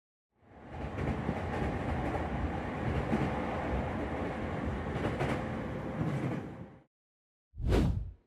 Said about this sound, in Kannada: ಮಂಗಳೂರಿನ ಸೆಖೆ ತುಂಬಿದ ರೈಲ್ವೆ ನಿಲ್ದಾಣ